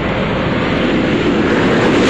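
Space Shuttle Discovery on its STS-116 descent with the landing gear deploying: a loud, steady, broad rushing roar of air and aircraft noise fills the whole stretch without a break, and no voices are heard.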